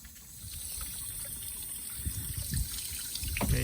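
Water flushing through a Jeep Liberty heater hose, a steady close trickling rush with gurgling surges that grow slightly louder toward the end.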